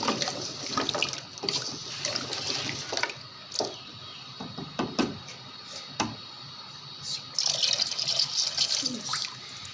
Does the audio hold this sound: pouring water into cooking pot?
yes